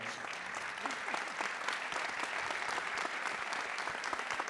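A crowd at a sports awards ceremony in the Rhône region claps in sustained applause, a thick, even patter of many hands heard from a distance in a large hall, with faint voices underneath.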